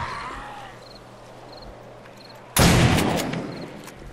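A homemade shotgun fires once in the 7 Days to Die zombie survival game, a single loud close blast with a lingering noisy tail after a quiet stretch of faint ambient tones.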